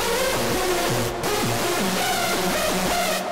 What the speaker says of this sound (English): we are going to create a hardcore lead in Vital